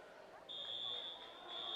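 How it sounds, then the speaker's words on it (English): A shrill electronic fire alarm tone sounds continuously at a distance during a girls' basketball game, over a murmur of crowd noise and voices. "Fire alarm just went off, yep."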